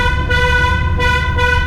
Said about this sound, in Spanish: Aquí sí o sí hay que tocar el claxon porque es prácticamente una vía cuando pasas por la cueva